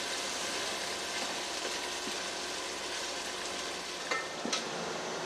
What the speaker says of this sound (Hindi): टमाटर को उस वक्त तक पकाएंगे जब तक इनका पानी खुश्क नहीं हो जाता।